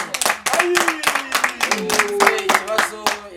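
An audience claps in a quick, uneven patter through the whole stretch, with a voice talking over the applause.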